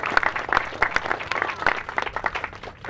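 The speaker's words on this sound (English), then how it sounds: "Let's give him a big round of applause" Audience applause at a park grand reopening, Chatsworth Park South, a steady burst of clapping from a crowd lasting several seconds, fairly close and lively with no talking over it.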